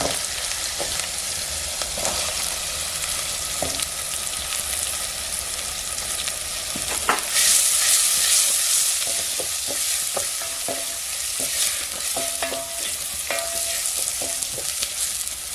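Chopped onion frying in hot oil for a spicy corn dish, a steady loud bright sizzle running throughout, with occasional spoon scrapes and stirring knocks, close up and without speech.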